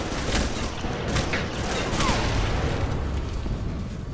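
Sustained turret fire and explosions in the Alpha Protocol shooter fill the space with a dense, continuous barrage of loud pops and booms, with a voice talking over the din.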